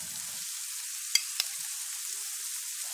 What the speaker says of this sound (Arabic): انا حطيت بصل على البوتاجاز عشان اعصر فيها اللحمه